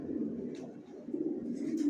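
Young silver racer pigeons give soft, low cooing murmurs up close in a brief, steady stretch with faint background noise.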